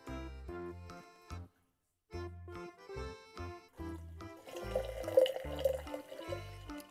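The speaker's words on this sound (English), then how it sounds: "I'm gonna pop the water in." Water from a bottle is poured into a jar, making a gurgling, glugging stream in several bursts with short pauses between them, close and clear.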